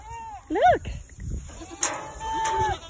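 Boer goats on a farm give several short bleats, one loud and close, others fainter and wavering, with a person talking in between.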